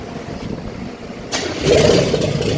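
A Cadillac Coupe DeVille engine cranks and catches on its first start, a steady low grind giving way to a louder running roar partway through, close by and heard alone.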